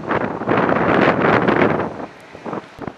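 Strong wind buffets the microphone on an open hotel rooftop deck overlooking a city harbor and the Pell Bridge, a loud broadband roar that gusts for two seconds, then drops to weaker, intermittent puffs.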